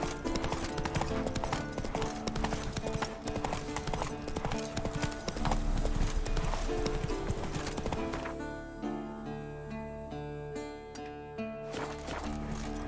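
Horse hooves clip-clop at a steady walking rhythm in the Witcher 3 video game, loud and close under a dense bed of game music and ambience that thins out toward the end.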